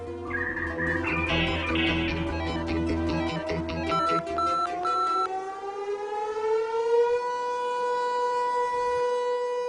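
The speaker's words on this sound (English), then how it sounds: "This siren tests the emergency alert system" A civil defense siren winds up and wails at a steady pitch, loud and sustained, with a few electronic tones mixed in at the start.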